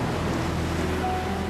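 Gentle ocean waves wash steadily at a surf beach in Gerupuk, Lombok, a soft continuous rush heard alone without talk.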